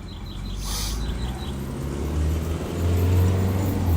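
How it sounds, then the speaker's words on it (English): Cars passing by outside, a low rumble that swells and fades with a louder vehicle approaching near the end, plus a brief high chirp early on. "Cars going by."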